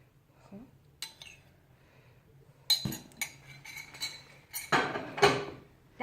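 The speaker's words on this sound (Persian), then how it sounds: "در قابلمه رو میذاریم" A lid set onto a cooking pot of rice with yogurt and saffron, close metallic clinks and clatters building to a louder ringing clank near the end, with no talk.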